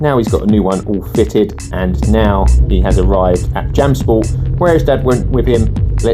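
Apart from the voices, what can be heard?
None of the usual background noises is heard.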